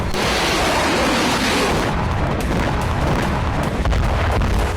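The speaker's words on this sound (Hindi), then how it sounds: "12 अगस्त की शाम रूस ने मिसाइलों से मिरगोरोद एयरफील्ड पर ताबड़तोड़ हमले किए।" Missile strikes on the Myrhorod airfield, a dense, loud roar of blasts and rumbling booms that runs continuously through the clip, with sharper cracks near the end.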